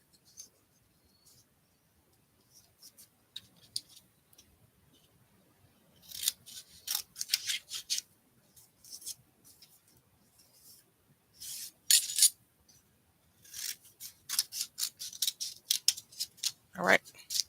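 Scissors snip through thick paper up close in bursts of quick crisp cuts separated by quiet pauses, with a soft thump near the end.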